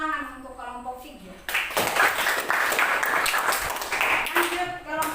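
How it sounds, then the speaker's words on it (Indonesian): Students in a classroom during a teacher-training practice lesson applaud group 3: a voice speaks briefly, then dense, steady clapping from many hands bursts in close and loud for about three seconds before thinning out. "Tepuk tangan untuk kelompok 3."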